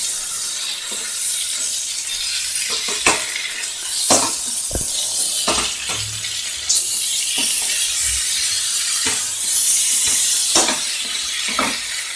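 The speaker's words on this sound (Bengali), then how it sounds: "এগুলো সব ভালো করে একটু মিশিয়ে দিচ্ছি।" Spoon clinks and scrapes against a bowl while spices and red chili powder are mixed for a tangy-spicy eggplant dish, a steady run of close, fairly loud taps and scrapes with no talking.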